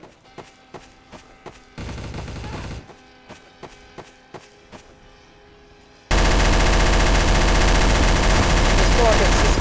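Gunfire in the video game Trouble in Terrorist Town, a run of sharp, evenly spaced shots followed by a loud, dense burst of noise.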